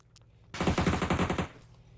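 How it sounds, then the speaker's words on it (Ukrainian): A rapid burst of automatic gunfire in PUBG on the Erangel map rattles for about a second, loud and close, with quiet ambience before and after. "Лоні постріляв по Сані"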